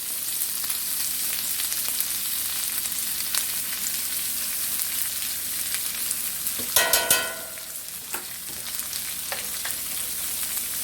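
Garlic fries in butter and oil with a steady, close bright sizzle, broken briefly by a louder crackling burst partway through.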